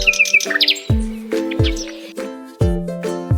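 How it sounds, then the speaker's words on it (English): A nightingale sings a bright, clear series of chirps and whistled tweets, loud and close, in short repeated phrases with no talk over them. "Nightingales sing beautiful songs,"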